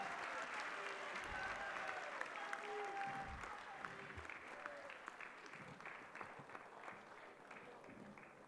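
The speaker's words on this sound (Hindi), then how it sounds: "आदरणीय अमित शाह जी, कृपया जोरदार तालियां बजाकर उनका स्वागत करें" Sustained applause from a large crowd welcoming Amit Shah at an intellectuals' conference gathering, a dense, steady wash of clapping that holds for several seconds with a faint voice underneath.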